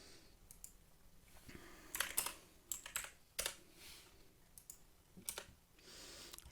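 Keys clatter on a computer keyboard in short irregular bursts while someone works in Blender, the clicky strokes close and fairly quiet over a faint background hiss.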